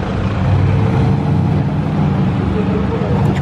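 A McLaren 765LT with four exhaust tips idles close by, its low, steady rumble continuing evenly for a few seconds while people talk over it.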